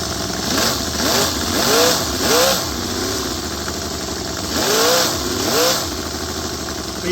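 A small V8 engine in an RC monster truck runs steadily with a throaty exhaust burble, rising and falling in a few gentle revs, close and fairly loud.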